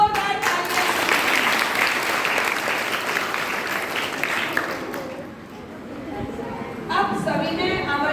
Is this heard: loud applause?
yes